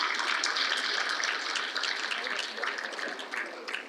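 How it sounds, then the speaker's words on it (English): An audience at a closing ceremony applauds the panelists with steady, dense clapping that fills the room and slowly tapers toward the end. "the panelists another round of applause"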